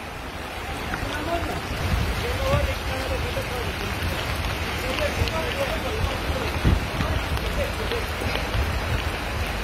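A dense, steady hiss of a heavy rain downpour in Ünye, Turkey fills the scene, with low rumbling underneath and no clear voices.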